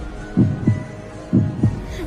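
Loud, booming heartbeat in a dramatized Edgar Allan Poe tale, two paired double thumps, lub-dub then lub-dub, deep and throbbing over a low hum, with no talking.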